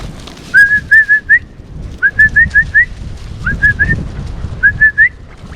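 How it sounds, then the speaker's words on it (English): A person whistles to call back a group of five puppies, giving four short bursts of rising, repeated whistle notes outdoors over a low background rumble. "So did a little whistle, and here we are"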